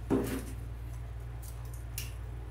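Scissors cut stems and greenery for a winter holiday swag, giving one crisp snip near the start, then faint snips over a low steady hum, with no talk.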